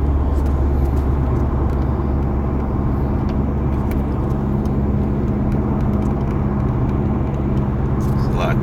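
A car heard from inside while it is driven, with a steady low engine and road rumble that stays constant throughout.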